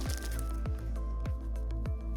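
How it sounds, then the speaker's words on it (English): Paste is poured and mixed in a small metal Altoid tin for encaustic transfer work, making four soft wet squishes in a steady rhythm over a constant low hum. "I'll try pouring, mixing a little in here."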